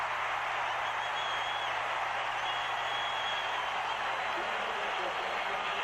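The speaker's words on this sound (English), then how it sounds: "This capacity crowd now urging the Broncos on." A capacity crowd at Mile High Stadium cheers the Broncos during a 1979 NFL game against the Seattle Seahawks, a continuous distant roar held faint and steady under a commentator's voice.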